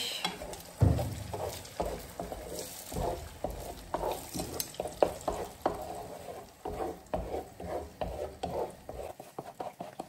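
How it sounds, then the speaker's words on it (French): Eggs are stirred through frying ramen noodles and courgettes, giving a close, rhythmic scraping of a utensil against the pan over a soft sizzle, with repeated strokes all the way through. "on met les œufs. Et on va les mélanger."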